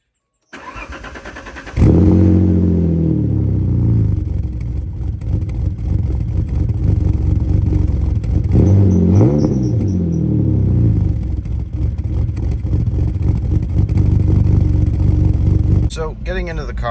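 An early-1990s Alfa Romeo with about 300,000 km cranks and starts, then settles into a loud, steady idle and driving drone. A rising rev swell comes midway, heard from inside the car.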